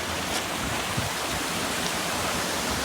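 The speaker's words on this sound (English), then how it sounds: "There's 4 waterfalls" Steady roar of waterfalls in an Icelandic gorge, a dense, unbroken wash of falling water close by that fills the air with no other sounds on top.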